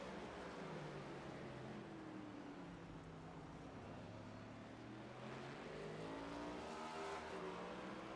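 The number 20 Ford Mustang race car at COTA, a road course, drones steadily with shifting engine pitch under continuous broadband noise, rising and falling as it works through the final corners, somewhat distant and faint.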